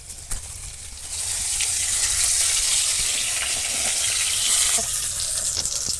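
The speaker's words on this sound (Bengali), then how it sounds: "সমস্ত মাছগুলো ভেজে নিয়েছি তুলে নিলাম তেলের মধ্যে আমি আরও একটু তেল দিয়ে দেবো" Tilapia fish sizzling and frying in hot oil for a mustard-oil style curry, a steady loud crackling hiss that swells after the first second and holds, with a few sharper pops near the end.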